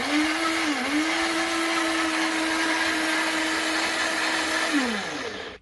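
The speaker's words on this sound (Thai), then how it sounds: "ปั่นให้เข้ากันอย่างละเอียด" A countertop blender whirs steadily as it purées a Thai dressing of palm sugar, fresh lime juice and fish sauce, a loud even motor drone that dips briefly, then winds down at the end.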